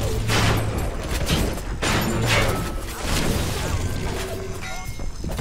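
Bursts of enemy gunfire erupt in the video game BioShock, rapid cracking volleys repeating amid clattering impacts, with a player talking excitedly over the action.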